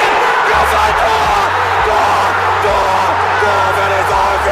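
A football stadium crowd roars in celebration of a goal, a dense continuous wall of cheering and shouting that holds loud and steady throughout with no pauses.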